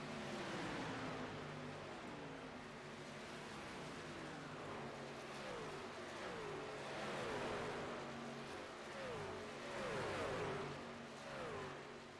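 Race trucks in the Sim500 winter truck series at Las Vegas roar past one after another in a racing video game, engines rising and falling in pitch with each pass, fairly faint and without talk.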